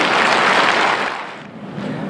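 An audience at a book launch for the Gwangju education superintendent applauds warmly, a dense full round of clapping that tapers off toward the end.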